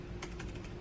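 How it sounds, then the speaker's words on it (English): A few quick keystrokes clatter on a computer keyboard, close and faint, over a low steady hum. "Jeez, my typing is really bad today."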